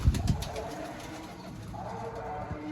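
Pigeons coo softly in low, rolling murmurs close by, with a couple of sharp knocks at the start and faint background noise throughout.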